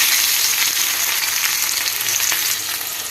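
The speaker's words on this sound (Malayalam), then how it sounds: "ഇനി നമുക്ക് കറിയിലേക്ക് ഇച്ചിരി വറവിടാം." Onions fry loudly in hot oil for a curry tempering, a steady close sizzling hiss that fades slightly near the end, with no voices.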